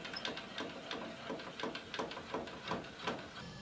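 A table saw blade being tilted back to 90 degrees, heard as a faint, steady run of rhythmic mechanical clicks from the turning tilt mechanism, evenly paced and quiet against room noise.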